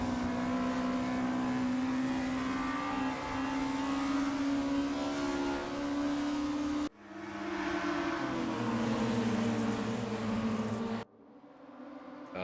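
Scirocco race cars in a sim racing game at Sonoma give off a loud, sustained engine drone, with the pitch shifting as the cars lap and abrupt cuts between camera views.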